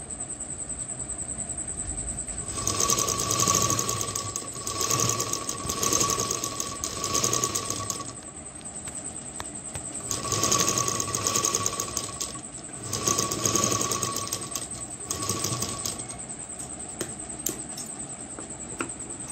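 A sewing machine runs double stitching along the side seam of a blouse in two long, loud, whirring runs, each lasting several seconds, separated by a quieter pause.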